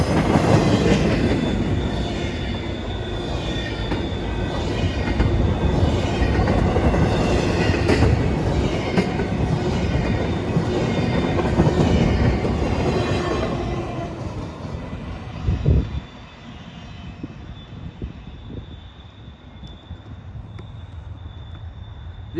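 Freight train cars roll past a level crossing close by, loud rumbling with rhythmic wheel clatter and squeals, then the last car clears and the noise drops to a quieter fading tail.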